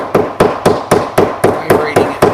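A hammer beats on a metal casting flask to vibrate it, eight loud, sharp, evenly spaced strikes in a steady rhythm, each ringing briefly, with no talk over them.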